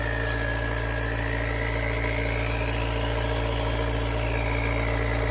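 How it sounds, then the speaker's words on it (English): A turbocharged diesel engine runs steadily, with a deep, constant drone and a thin turbo whine that rises and falls slightly above it. "Do you like the sound of that turbo?"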